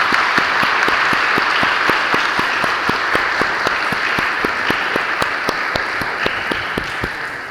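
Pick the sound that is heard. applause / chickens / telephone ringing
applause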